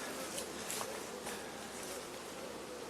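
Honey bees on hive frames at an apiary make a steady, close buzzing hum that continues throughout with a few faint knocks.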